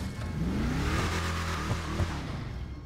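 Modded car with a Hemi engine in GTA 5, a steady deep throaty engine drone that rises in pitch as it revs, loud and close and continuous throughout, with no voices over it.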